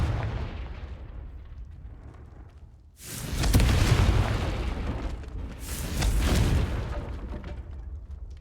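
Two loud fiery explosions from the Confringo spell in Hogwarts Legacy, each a sudden roaring boom that trails into a crackling rumble, following a fading low rumble.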